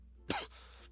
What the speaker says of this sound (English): I had the cough.